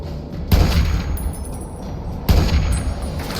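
Two sharp gunshots in the video game Fallout, Tale of Two Wastelands mod, loud booming cracks spaced nearly two seconds apart over a steady background rumble.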